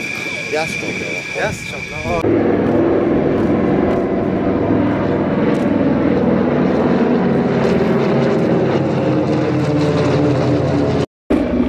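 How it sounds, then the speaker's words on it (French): At an airshow, a formation of vintage propeller planes, a DC-3 and two Beech 18s, passes with a loud, steady engine drone that fills most of the clip after a brief stretch of voices at the start. "Formation Team DC3, Beach 18 et un troisième Beach 18 derrière, des avions d'un autre temps."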